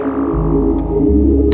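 A sustained synth tone with a deep bass body and bright upper harmonics, dry and steady, shifting pitch once midway, heard alone.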